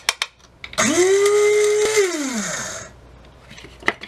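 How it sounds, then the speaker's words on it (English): A small spice grinder whirs loudly as it pulverizes dried celery into powder, its motor pitch steady for about two seconds, then winding down. Faint clicks and handling noises come before and after. "I might grind it up a little bit more"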